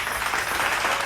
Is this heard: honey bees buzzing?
no